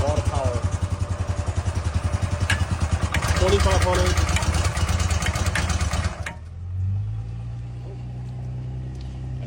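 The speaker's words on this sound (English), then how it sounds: "Very nice pressure washer with a lot of power." A Honda Eagle Pro gas pressure washer's engine runs with a loud, close, rapid chugging, then cuts out abruptly partway through, leaving a quieter low hum while someone talks over it.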